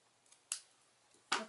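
Scissors trimming decorative paper for a handmade birthday card, two crisp close snips about a second apart in a quiet room.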